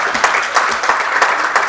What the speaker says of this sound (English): let's give Sundar a warmer round of applause.